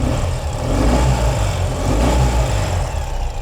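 A 2017 Ural cT motorcycle engine in Bronze Metallic, warmed up a little, revs steadily and loudly close by with a constant low rumble and no talk.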